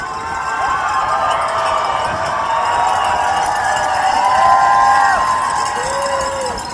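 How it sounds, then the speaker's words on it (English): Crowds lining First Avenue during the New York City Marathon cheer runners on, a constant wash of distant voices, whoops and shouts rising and falling over the steady hum of the race. "listen to the crowds as we come down onto First Avenue"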